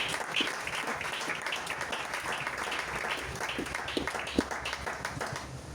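A church congregation applauding after the word of God is proclaimed, steady dense clapping from many hands continuing throughout, close and moderately loud, with faint voices in the background.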